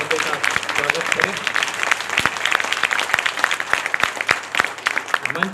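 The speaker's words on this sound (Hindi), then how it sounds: "आप सबसे मैं आग्रह करूंगा कि जोरदार ताली बजाकर माननीय सांसद महोदय का स्वागत करें।" An audience at an honouring ceremony claps to welcome a member of parliament, a steady burst of many hands with sharp individual claps standing out, continuing throughout.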